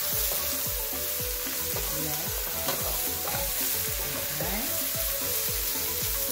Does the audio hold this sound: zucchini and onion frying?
yes